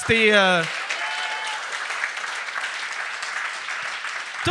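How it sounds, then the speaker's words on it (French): Studio audience applauding on a comedy talk show, steady moderate clapping after a brief burst of speech at the start. "On va donner une bonne main d'applaudissement à toutes"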